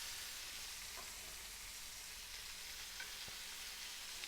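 Tuna steaks searing in a hot pan give off a steady, close broadband sizzle with faint crackles and a few small pops, and no one speaks over it.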